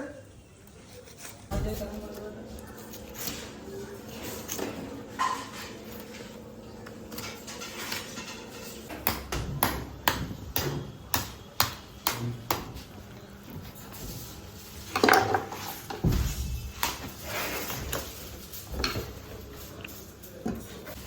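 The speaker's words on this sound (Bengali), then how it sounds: "এত বড় এই মাছটা কাটছি দেখুন এবার কীভাবে কাটা হচ্ছে" A large bhetki (barramundi), four to five feet long, is cut up at a fish stall: scraping and knocking of the blade on fish and board, with a run of heavy, rapid chops in the middle, while people talk.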